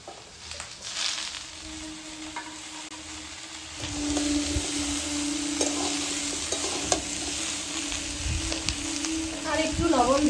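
Pointed gourd, drumstick stalks, red amaranth stems and mixed vegetables frying in a pan with steady close stirring and scraping over a continuous sizzle that grows louder partway through, with brief spoons clinks.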